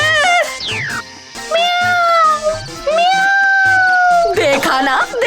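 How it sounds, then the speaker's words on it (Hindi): Cats meowing loudly and close, long drawn-out wailing meows with sliding pitch following one another across the whole stretch. "खुशबू सूंघते ही बिल्लियां आ गई है यहाँ पर।"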